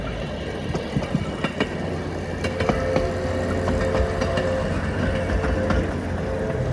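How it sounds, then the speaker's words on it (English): A heavy engine rumbles and idles steadily as train engines move past on a track loop at the Colorado Railroad Museum, with occasional clanks and a faint high squeal over the low drone. "I had a chance to see engines pass by"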